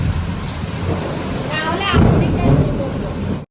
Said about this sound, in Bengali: এটা বৃষ্টির হাল একটা হাওয়া দিচ্ছে